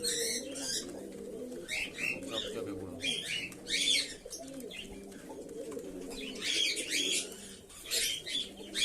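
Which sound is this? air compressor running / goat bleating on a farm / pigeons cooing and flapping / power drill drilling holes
pigeons cooing and flapping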